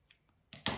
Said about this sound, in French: parce que je vais les couper en deux